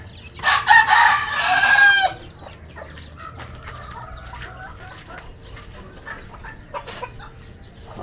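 A rooster crows loudly for about two seconds, then hens in a flock with fowl pox cluck and chatter softly in the background with scattered calls.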